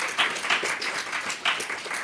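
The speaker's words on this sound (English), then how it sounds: "Give him an applause." Audience applause at a university talk on Palestine, a steady wash of many hands clapping across the whole moment, moderately loud and close, with no voices over it.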